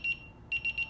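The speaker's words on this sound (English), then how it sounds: "Three beeps for the second, six beeps for the third" Short electronic beeps from a gun safe being programmed, one pair followed by a quick run of three, thin and high-pitched against a quiet background.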